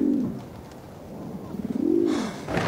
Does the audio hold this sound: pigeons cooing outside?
yes